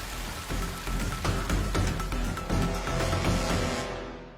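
Water pours down like heavy rain from a magical tap in a children's cartoon, a loud, dense pattering wash of drops that swells and holds steady before fading at the end.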